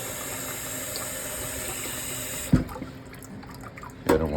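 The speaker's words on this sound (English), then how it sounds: "And I'll change the water" Water is changed in a cold bath used to cool milk for yogurt, with a steady running, trickling wash followed by a couple of sharp splashes and clunks near the end.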